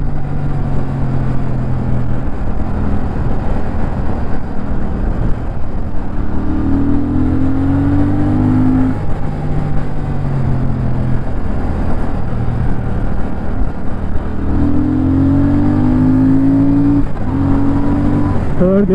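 A car engine pulls up through the gears, its pitch climbing, dropping at each shift and climbing again, heard from inside the car as a steady drone.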